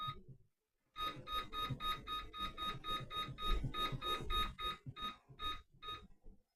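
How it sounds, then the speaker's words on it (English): An air fryer beeps repeatedly in a steady run of bright electronic tones over roughly five seconds, sounded while cooking French toast, with faint kitchen clatter underneath. "So it's beeped again."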